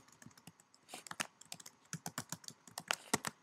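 Keys tapped on a computer keyboard while typing an email login, a quick irregular run of crisp clicks that speeds up into dense bursts toward the end, close and clear with no talking.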